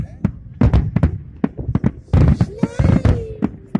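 A rapid, loud string of close Fourth of July finale firework bangs and crackles, with a whistling tone rising partway through and voices mixed in.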